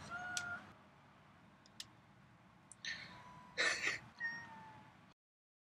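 A cat meows a few times at moderate volume, short cries spaced apart over quiet room background.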